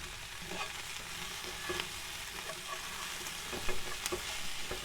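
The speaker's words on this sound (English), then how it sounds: "Just fry these off a bit." Food sizzles and spits in a pan on a camp cooker during outdoor roast beef camp cooking, a steady close frying hiss with occasional pops and stirring scrapes, no talk.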